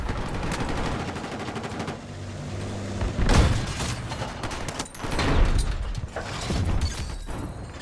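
Gunfire in the video game Battlefield 6 crackles in rapid automatic bursts, with heavy booming impacts and mechanical rumble between volleys.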